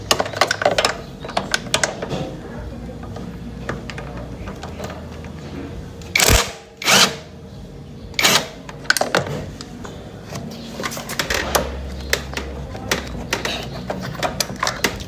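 A 12mm wrench working loose the lower bolt of a shock absorber, a close series of sharp metallic clicks and ratchet-like ticks, with a few louder clanks and scrapes along the way.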